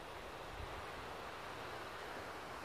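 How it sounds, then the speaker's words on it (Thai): Soft, steady rushing of wind with a faint hiss of rain in a forest, low and constant throughout, no voices. "ให้ฟังเสียงลมเสียงฝนจ้ะ"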